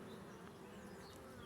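Honeybees drone steadily from an opened drone-laying hive during a beekeeping inspection, a dense continuous buzz up close with individual bees passing nearby and no talking.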